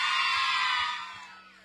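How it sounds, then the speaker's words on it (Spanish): A crowd at a contest show cheers and whoops for a girl in a cap, a bright burst of shouting and applause that fades over under two seconds. "¡Aplauso para la chica de gorra!"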